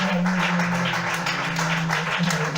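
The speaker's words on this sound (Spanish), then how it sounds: "Dale un aplauso a él en esta mañana." A church congregation claps together during a morning service. The applause is dense and steady and close by, with a low held tone running beneath it.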